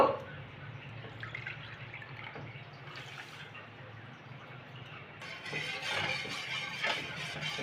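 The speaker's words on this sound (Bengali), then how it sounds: "এবার আমি জল দেব জল দেব আমি এই কাপের মাপে দেড় কাপ জল দেব" Water pours into a pan of sugar for syrup in a home kitchen, a steady close splashing trickle that grows louder and brighter toward the end.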